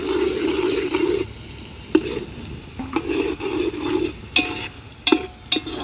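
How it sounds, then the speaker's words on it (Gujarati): Green onions stir-frying in hot oil for masala rice, a steady sizzle broken by several sharp scrapes and clinks of a spoon stirring against the pan, close and clear with no talking. "નાખીશું લીલી ડુંગળી સારી રીતે પાકી જાય ત્યાં સુધી ફેરવશું આપણે"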